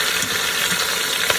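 Flat short ribs browning in an Instant Pot, a steady, even sizzle of meat frying with a few faint clinks, near and continuous.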